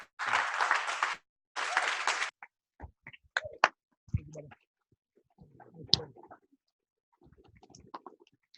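Brief bursts of clapping from a small group on a video call, two short rounds at the start, then scattered faint taps and quiet noises.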